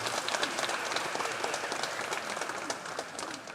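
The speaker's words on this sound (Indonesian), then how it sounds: "Mari kita beri tepuk tangan." A church congregation applauding during a Sunday Mass, with dense, steady clapping spread evenly through the room and sustained at a moderate level throughout.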